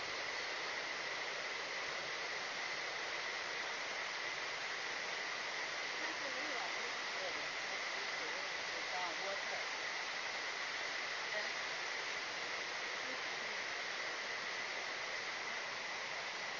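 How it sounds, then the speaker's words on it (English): A river in the Wuzhishan tropical rainforest rushes steadily below a bridge, a constant broadband roar of flowing water holding even throughout, with a faint high insect-like whine above it. "I think the video is going to pick up mostly the river"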